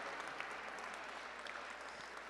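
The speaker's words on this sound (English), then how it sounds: "How about one more round of applause for our Red Sox fans here in the house?" Audience at a charity gala breaking into steady applause, a dense even wash of clapping heard from a distance and fairly faint throughout.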